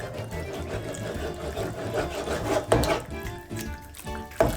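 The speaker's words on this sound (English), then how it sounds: "And now, mix it." Basil pesto pasta being tossed and stirred with starchy pasta water in a pan, giving a wet sticky squelching and scraping sound, moderately faint and continuous with a few louder slaps near the end.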